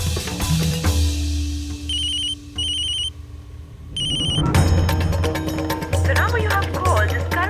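An electronic phone ring chirps in several short repeated bursts, then music and other sounds swell in over a low hum.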